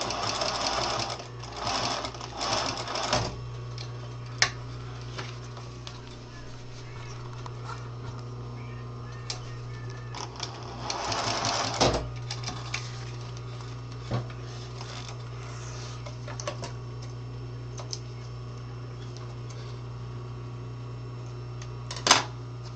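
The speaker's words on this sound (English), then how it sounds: "just sewing the corners of our pockets for one of the messenger bags" A sewing machine stitches the pocket corners of a messenger bag, a rapid mechanical whir in short bursts with a low steady hum from the workshop between them and a few sharp clicks.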